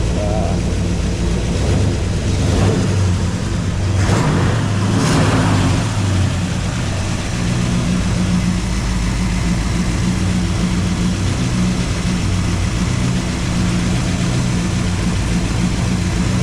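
A 1956 Chevrolet Bel Air engine runs at a steady fast idle on the carburetor's fast idle cam, a continuous low rumble with a brief rise in the middle, while people talk nearby.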